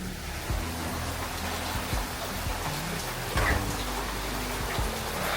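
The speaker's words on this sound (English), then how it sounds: "We're already getting a lot of rain." Heavy rain from Hurricane Milton falls in a steady, even hiss, close and continuous, with a few faint thumps and knocks beneath.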